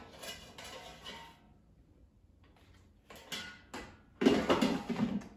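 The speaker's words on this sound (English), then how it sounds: "Let me take it out of the air fryer and put it on a plate" Cooked filet mignon lifted out of an air fryer basket and set onto a plate, heard as bursts of metallic clatter and scraping, with quiet pauses between and a louder clink and knock at the end.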